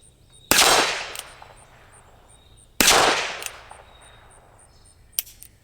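Two sharp gunshots from a Ruger Wrangler .22LR single-action revolver fired outdoors at a target, each crack followed by a short decaying ring, plus a fainter click or pop near the end.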